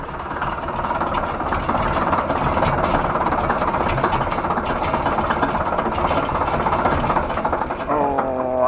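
A 1953 International Harvester TD20 bulldozer, with a non-turbo 750 cubic inch straight-six diesel, idles with a steady, loud, chugging clatter. Right at the end a brief rising whine cuts in.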